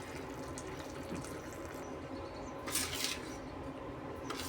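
Hot boiling water poured little by little into chakli flour in a bowl, a faint, steady trickling splash with a brief louder pour midway.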